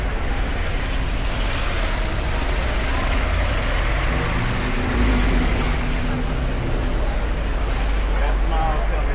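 A Jeep engine drones steadily on an indoor off-road course at the Detroit Auto Show, a loud constant rumble close by under people talking.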